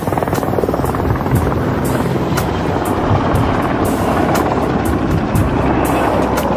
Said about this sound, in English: The helicopter is an unmarked Black Hawk type chopper, often used by special forces.